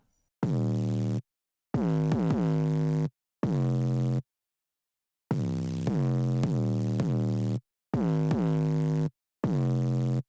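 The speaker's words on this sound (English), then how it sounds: "this one's very blown out, very distorted." Repeated bursts of heavily distorted, buzzy 808 bass tones, each lasting about a second with short silent gaps between, loud and blown out.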